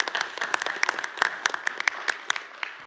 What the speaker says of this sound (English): I want to give both Bruce and Brian a big round of applause.